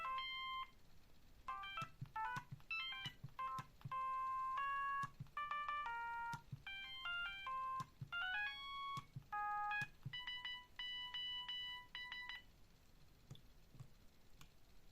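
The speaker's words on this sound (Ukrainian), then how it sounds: "Далі вже пішли такі мелодії на повідомлення." Message notification melodies from a 2000s mobile phone play one after another as short, close electronic beeping tunes with brief pauses between them.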